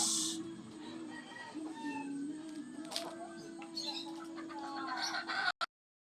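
A breeding hen of a gamefowl flock clucks and murmurs nearby among other faint bird calls, with low background noise throughout.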